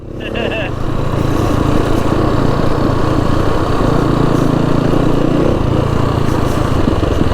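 A Beta 500rr-s dual sport motorcycle engine revving loudly on North Georgia trails, a rough sustained roar after a brief rise, steady and close for the whole stretch.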